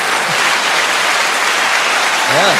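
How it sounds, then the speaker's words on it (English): Audience applause at a live event, a dense steady wash of clapping filling the whole stretch at fairly loud level, with a brief voice cutting in near the end. "I think deserves a round of applause."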